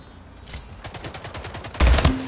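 Rocket launcher fire in a shooting video game: rapid rhythmic bursts of gunfire build up, then a loud booming blast near the end, alone without talk.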